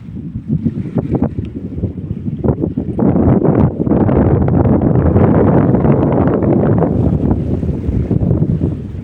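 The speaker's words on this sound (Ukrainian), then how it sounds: "Вітерець сьогодні е, тому хвилі" Strong wind buffeting the microphone with a constant rushing roar, over the low wash of small waves on water nearby, by small boats in Denmark.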